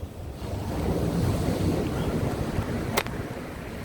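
Strong wind roars across a UK beach with surf breaking steadily beneath it, a continuous close rush of buffeting gusts against the microphone and one brief sharp knock near the end.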